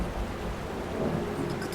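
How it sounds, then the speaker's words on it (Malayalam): Dense, steady rain with a low rumble underneath, filling the short moment without any voices. "മഴയാണ് ഈശ്വരാ."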